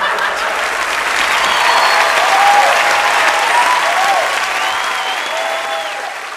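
Sustained audience applause at a live Vietnamese comedy stage show, loud and steady for several seconds, with crowd murmur and a few faint voices beneath the clapping.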